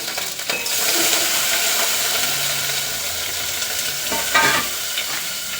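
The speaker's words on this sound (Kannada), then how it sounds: "ಈಗ ಈ ಟೊಮೆಟೊ ಇದಕ್ಕೆ ಹಾಕ್ಕೊಳ್ಳೋಣ." Chopped tomato sizzles steadily as it fries in a hot pan of masala gravy for baby potatoes, a continuous hiss with soft stirring scrapes and a brief clatter near the end.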